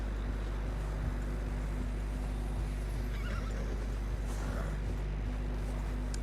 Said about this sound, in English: the Horses are struggling.